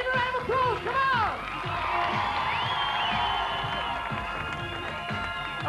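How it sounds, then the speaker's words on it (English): A crowd at a 1980s televised skateboarding event on a quarter pipe cheers and whoops for a skateboarder, with lively shouts and a steady roar of applause, while a commentator talks over it. "Give him a round of applause"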